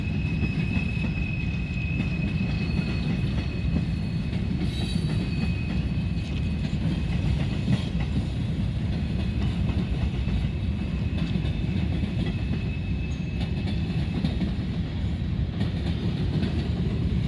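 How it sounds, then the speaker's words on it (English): A long empty coal train with distributed power units rumbles steadily past at close range in Greenwich, Ohio, wheels clattering over the rails with a faint high squeal riding on top throughout. "Looks like this is an empty coal train right here."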